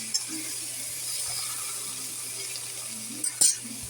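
Chopped onion, green chilli and tomato fry quietly in a pan with a soft, continuous sizzle, broken near the end by a few sharp scrapes and clinks of stirring.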